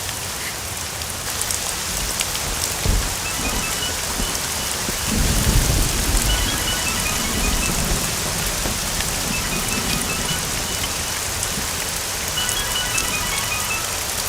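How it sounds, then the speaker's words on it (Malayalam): Heavy rain pours steadily onto surfaces close by, a dense, loud hiss that never lets up, with a deep rumble of thunder swelling in the middle. "ഇവിടെ ഭയങ്കര മഴയാ."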